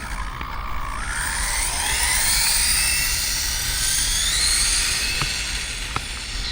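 An Arrma Typhon RC car on a 6S battery screams at full throttle, a loud high-pitched electric motor whine rising and falling in pitch as it speeds past, with no talking.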